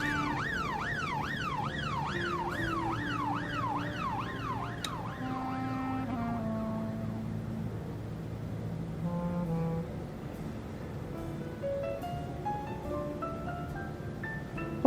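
Ambulance siren in the police management video game This Is The Police, a loud wailing tone sweeping up and down, then falling away and rising again over a low musical drone.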